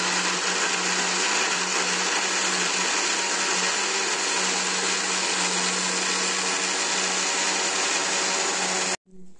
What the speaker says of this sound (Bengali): গাজরগুলো সব কটা প্রায় কুচি কুচি করে কাটা হয়ে গেছে। এবার মিক্সিতে পেস্ট করা হবে।